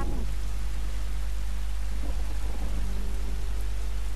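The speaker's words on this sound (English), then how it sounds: "Damn, it's raining." Steady rain falling in The Last of Us video game, a constant dense hiss with a low rumble throughout, with no speech.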